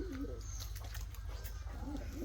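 Pet pigeons coo in low, rolling phrases at close range, two soft bursts over a steady low background rumble.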